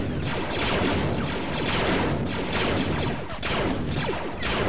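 Bazooka fire and explosions in the Clones of War mod video game come as a dense, loud barrage of blasts and crashing booms, overlapping without pause from start to end.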